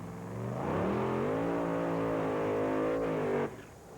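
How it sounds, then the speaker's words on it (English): Alcohol-fueled drag racing car doing a burnout at a 1987 IHRA Northern Nationals event in Milan, Michigan: a loud, steady engine roar climbs in pitch and holds for about three seconds before cutting off sharply. "Greg Moss in a beautiful green machine doing a burn-off, getting set to go here."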